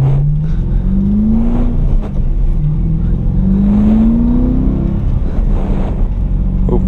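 Interior engine sound of a BMW M3 being driven with a manual clutch, a steady loud drone with pitch rising and falling through two gear pulls, no talking.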